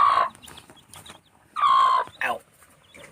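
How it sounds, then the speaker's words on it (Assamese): A village hen with her chicks gives two loud, close clucking calls separated by a pause, then a shorter third call against a quiet background. "মুৰ্গী তলত পোৱালিকেইটা এইটো পোৱালি"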